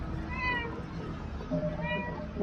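Two cats meow in a video game, one short meow near the start and another about two seconds later, over a steady low background hum.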